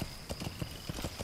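Horse hooves in the video game Metal Gear Solid V, a rapid, even clip-clop of about eight close, distinct strikes, with no voices.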